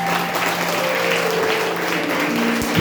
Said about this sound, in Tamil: இயேசுக்கு ஒரு நல்ல கைத்தட்டு கொடுக்குமா?